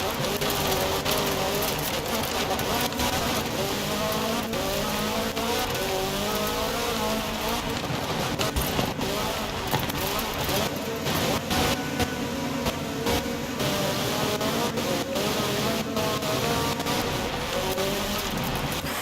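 An off-road car's engine drones and revs in a racing video game, its pitch sliding up and down through gear changes, loud and continuous for the whole stretch.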